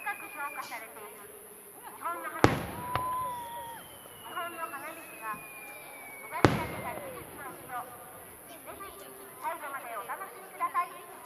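Fireworks at a Japanese festival display burst twice with sharp loud bangs, the second followed by a long descending whistle, over a steady murmur of crowd chatter.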